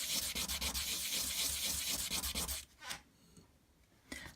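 Sterling silver being sanded by hand with fine P1200 sandpaper, a close, steady scratchy rubbing in quick strokes for over two seconds, then a pause and a brief final stroke.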